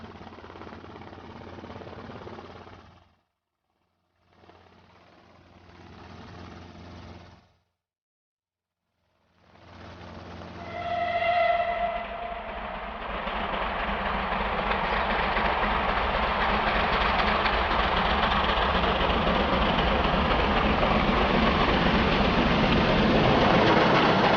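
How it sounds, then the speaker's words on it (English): A steam locomotive on an Orient Express steam service labors uphill from Petersfield toward Buriton Tunnel, first distant and intermittent, then a whistle-like tone before a loud, dense, continuous roar of the engine passing close. "here the locomotive toils uphill from Petersfield towards Burriton Tunnel"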